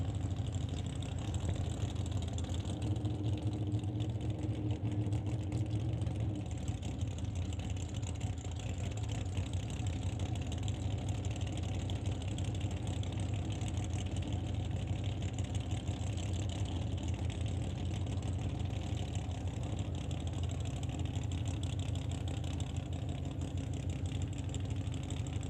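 A 1963 Chevrolet Corvette drag car idles with a steady low rumble at the strip, its engine note holding fairly constant with slight throttle changes throughout, moderately distant under a broadband background roar.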